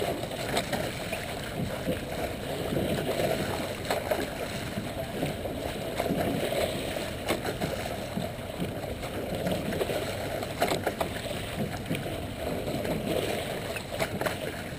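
Oars of a rowing boat pulled through water by rowers rowing in pairs, a continuous close wash of splashing and rushing water with faint periodic knocks, no voices.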